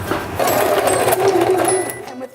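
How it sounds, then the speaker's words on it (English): A sewing machine stitches a quarter-inch seam through a quilt block with right sides together, running steadily for a couple of seconds at close range before stopping. "put right sides together and stitch from this point to this point, and you've got a perfect 1/4 inch seam"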